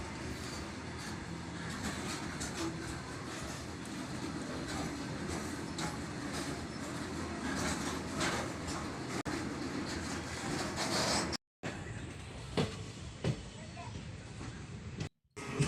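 Steady rumble of a moving Indian Railways train with rhythmic clatter of wheels on track, continuous and fairly loud, a couple of brief dropouts near the end.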